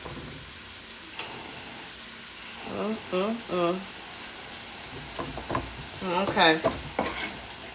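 Bacon, greens and cabbage sautéing in a pan, a soft steady sizzle with stirring scrapes and clinks, partly under brief talk.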